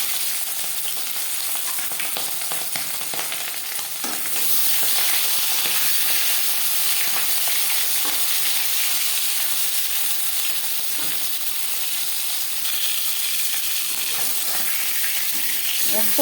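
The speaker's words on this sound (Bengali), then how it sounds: "এবার দিয়ে দেবো ম্যারিনেট করে রাখা মাছ।" Marinated bhola fish fries in hot refined oil with a loud, steady sizzle that holds throughout, crackling a little harder after the first few seconds.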